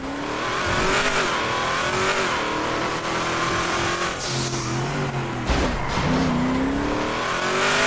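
A car engine in GTA 5 revs and roars steadily with rising and falling pitch, tires squealing briefly, loud and continuous with no talking.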